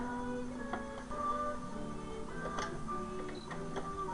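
A home sewing machine runs a straight stitch on a small hospital gown for an 18-inch doll, giving a steady mechanical whirring hum with light ticking and clicks, close and fairly even, with no talking.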